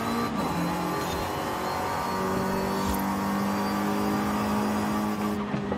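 Car engine in Forza Horizon 5 revving steadily under load, a continuous droning tone with shifting pitch and tire noise, loud and close throughout with no talking.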